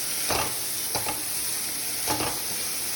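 Spices (masala) frying in a pan make a steady close sizzle, broken by three or four brief scraping stirs of a utensil, with no talking.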